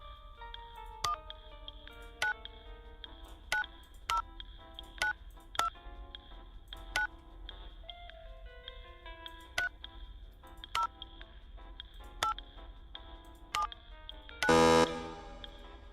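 Phone keypad dialing tones for an intercom code in a camping survival video game: a steady sequence of about a dozen short, clear beeps spaced roughly a second apart, ending in a brief louder burst.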